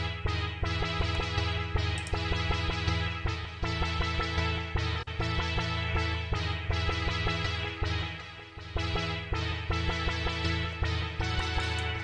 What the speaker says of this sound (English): we have like a harpy synth over here that is very present in the final version as well